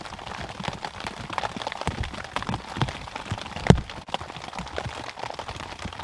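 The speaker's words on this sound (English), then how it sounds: "I need the rain to stop to set my sleeping gear up." Rain patters on a tarp shelter in a bush storm, a dense, close, irregular drumming of drops with a few sharper, louder hits standing out.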